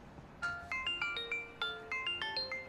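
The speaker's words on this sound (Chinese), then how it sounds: "你电话。" A mobile phone ringtone plays a bright, bell-like electronic melody of repeating chimes, clear and steady with no voices over it, in an indoor drama scene.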